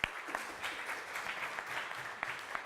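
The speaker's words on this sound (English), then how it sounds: "Keep clapping." An audience at a startup pitch event applauds steadily, a continuous wash of clapping hands at moderate distance with a few sharper individual claps standing out.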